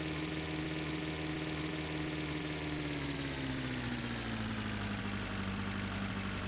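Car engine in the video game The Long Drive, a steady loud drone whose pitch slowly shifts as the car keeps accelerating at high speed, with no talking.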